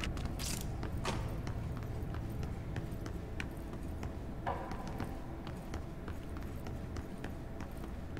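An elevator mechanism in the video game Control creaks and grinds, a continuous mechanical rumble with repeated short clicks and knocks, steady and fairly loud throughout.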